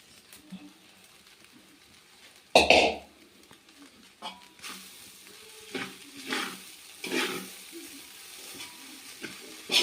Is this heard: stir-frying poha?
yes